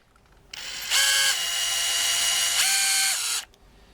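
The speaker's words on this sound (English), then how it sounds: "this part doesn't spin while the drill spins or the impact driver spins" A Bosch power drill whirs up with a bit holder in the chuck, the steady motor whine holding for about three seconds and shifting pitch midway before cutting off, loud and close with no talk.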